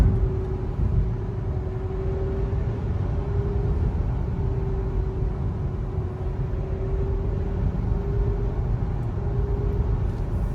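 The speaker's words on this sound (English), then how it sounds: "I've noticed my tires are starting to get a little loud on the Rivian, the all-terrains." All-terrain tires on a Rivian rolling over pavement, a steady low rumbling road roar with a faint droning tone, heard from inside the vehicle.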